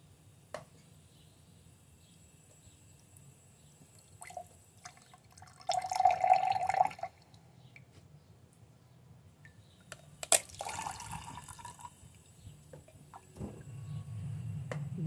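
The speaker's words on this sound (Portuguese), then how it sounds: "Olha a água aqui descendo, ó. Tá enchendo um copinho aqui" Water from a sprouted coconut drips into a small cup, faint scattered drops and a brief trickle in a quiet room, with a couple of louder handling bumps.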